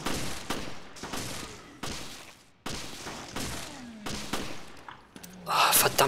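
Several loud, separate gunshots from Resident Evil: Revelations crack at irregular intervals, ending in a burst of bright noise.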